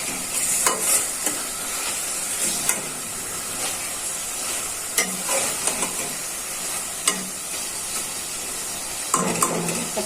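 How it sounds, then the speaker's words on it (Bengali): Rohu fish pieces are sautéed in a pan for a raw mango curry, giving a steady sizzling fry with periodic stirring scrapes and clacks of a spatula, close and continuous without speech. "এখন মাছটা কষিয়ে নিচ্ছি।"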